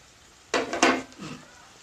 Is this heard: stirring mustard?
yes